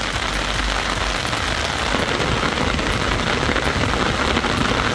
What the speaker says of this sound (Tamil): கொடைக்கானல், பழனி உள்ளிட்ட பகுதிகளிலும் கனமழை பெய்தது.